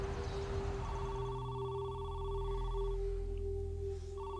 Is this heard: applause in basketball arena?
no